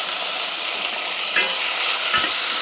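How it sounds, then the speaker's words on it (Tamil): Tomato sautés in a pan for garlic tamarind curry, with a loud, continuous sizzle and a couple of brief scraping stirs partway through. "நல்லா வதக்கி விட்டுருங்க."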